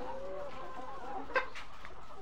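Layer hens cluck inside a poultry house, a low busy murmur of clucks and short calls from many birds, fairly faint and steady, with one brief sharper sound in the middle.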